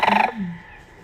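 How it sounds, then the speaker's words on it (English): A sandhill crane, a huge bird with a 7.5-foot wingspan, gives a loud, close rattling call in rapid pulses, then a lower trailing note fading into quiet. "That bird was actually a Sandhill crane."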